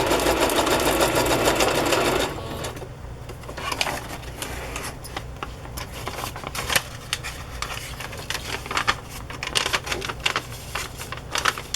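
A sewing machine stitches chiffon and tulle ruffles with a white piece caught in, running loud and steady at first, then breaking into a rapid, uneven clatter of short stitching bursts and pauses.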